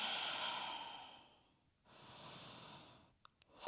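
Slow, deep yoga breaths drawn during a downward-dog hold in an intermediate Ashtanga class, a long soft exhale followed by a steady inhale, close and quiet, with a couple of faint clicks at the end.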